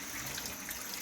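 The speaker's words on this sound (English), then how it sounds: "I'm going to fill my other sink up with water" Water runs steadily from a tap into a kitchen sink being filled to rinse collard greens, a continuous close hissing splash with no talking.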